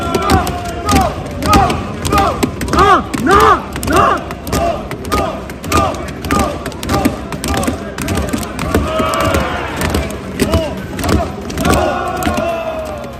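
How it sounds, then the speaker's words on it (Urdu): A loud crowd of lawmakers shouts rhythmic slogans in unison during a heated National Assembly session, the chanting voices rising and falling in steady bursts before dissolving into a general uproar. "قومی اسمبلی کے اجلاسوں میں شدید شور و نعرے، رکاوٹیں اور بل کی منظوری سے پہلے ہنگامہ آرائی ہوئی"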